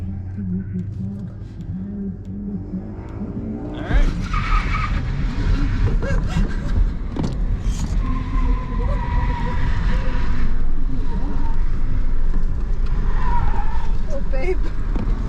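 A car on winter tires drifts around an autocross course, with engine roar building and tires skidding and scrubbing loudly. Voices talk over it from inside the car.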